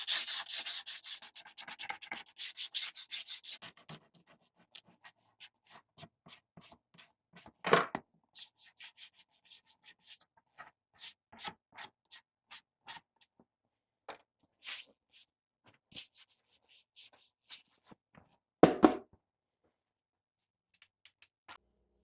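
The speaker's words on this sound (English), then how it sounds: "Don't dig into it, just a light scrape, let the razor do the work." A razor blade lightly scrapes dust off a Kawasaki XL250R motorcycle part, giving soft, intermittent scratchy strokes with quiet gaps and a few sharper scrapes, close and faint.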